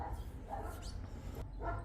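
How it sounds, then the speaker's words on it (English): Dogs bark a few times in the distance, faint and intermittent over a low background rumble. "Neighbours' dogs are barking."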